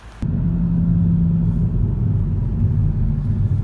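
A car rolls along a road through the town of Vyshhorod, heard from inside as a steady low engine and tyre rumble that begins abruptly and holds constant, with no talking.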